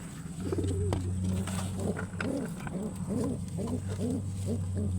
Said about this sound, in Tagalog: Bagong sisiw. May bagong sisiw naman si Babae Line.